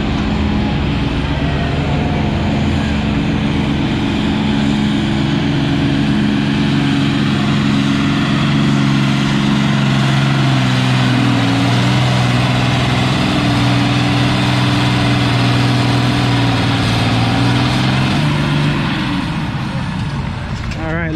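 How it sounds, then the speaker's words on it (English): An Allis tractor at a spring tractor pull in Lynden drags the sled with a loud, sustained engine roar whose pitch slowly sinks and rises across about twenty seconds before easing off near the end. "the Alice is back on the sled, and here we go."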